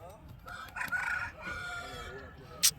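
A rooster crows once at a busy village poultry market, a loud drawn-out call near the start, followed by fainter clucks and a sharp brief squawk near the end.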